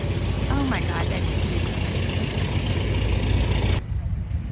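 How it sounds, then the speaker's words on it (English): Antique Model T engine converted into a tractor, shown at a farm machinery exhibit, running with a steady, rough idle rumble close by, while voices talk over it before the sound suddenly drops away. "It's a Model T conversion to a tractor."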